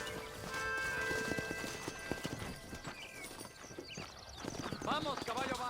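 Horse hooves clip-clop steadily in Red Dead Redemption gameplay, a rhythmic trotting beat running throughout, joined by game sounds such as wagon noise and a brief whinny, with a voice speaking over it.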